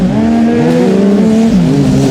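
Crosscar karts race hard on a circuit at the 2026 Australian Crosscar Championship Round 1, several engines snarling together in a loud, continuous close-up drone with shifting pitch as they accelerate through the pack.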